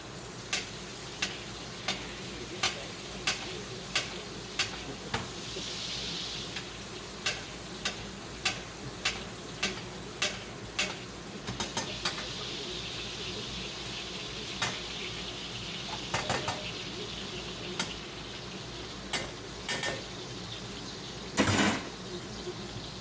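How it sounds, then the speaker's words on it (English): Steak basting in a hot pan sizzles steadily at close range, with a regular series of sharp ticks and light spoon or pan clinks running throughout. "Steak is almost ready. I just need another minute basting"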